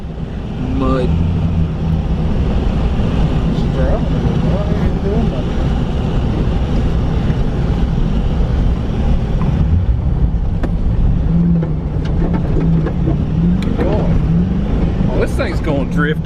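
A supercharged Ford Crown Victoria swapped to a 5-speed manual drives through mud, its engine droning and revving loudly with rising and falling pitch under steady wind buffeting.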